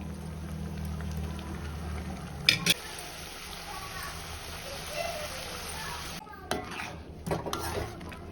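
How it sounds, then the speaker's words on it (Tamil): A pot of spinach curry simmers with steady bubbling and low background noise, interrupted by a few clanks and scrapes of a utensil against the pot. "பாருங்கள் லைட்டாக இது நல்லா கொதிக்கிட்டோம்"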